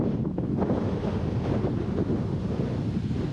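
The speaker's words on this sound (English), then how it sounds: "the microphone is just picking up my voice instead of picking up the atrocious wind up here" Strong wind buffets the microphone at a hilltop lookout on a bushwalk, a continuous loud rumbling roar with no voices.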